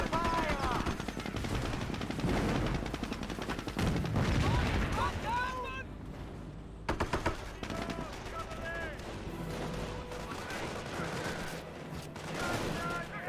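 Rifle squad gunfire in a Company of Heroes battle: scattered rifle shots and crackling bursts mixed with distant booms and battle noise, running under continuous talk.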